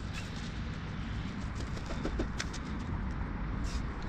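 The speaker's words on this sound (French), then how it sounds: "Ah, c'est un pigeon, c'est même pas une mouette!" A pigeon coos amid steady outdoor background noise during an attempt to free it from a casting fishing line, soft low calls repeating faintly over roughly four seconds with no talk.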